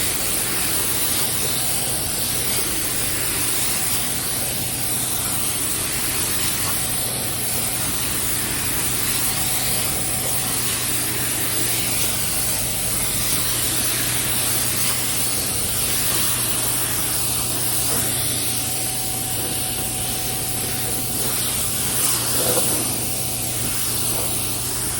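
A spray gun lays blueberry candy paint onto a 1984 Chevrolet C10, a steady close hiss that runs unbroken for the whole stretch with no talking.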